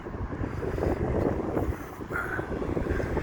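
Steady wind buffets the microphone outdoors in Blackpool ahead of a thunderstorm, a continuous loud rumbling gust that holds throughout with no break.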